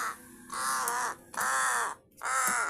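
A pet crow caws three times in long, harsh, drawn-out calls while tugging over paper money, loud and close with short pauses between calls.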